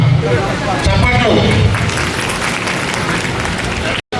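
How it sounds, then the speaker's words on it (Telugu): An audience applauds at a public meeting for the unveiling of a Konda Laxman Bapuji statue in Devarakonda. Loud, continuous clapping and crowd noise fill the stretch, mixed with babble, before a brief cutout near the end. "చప్పట్లు."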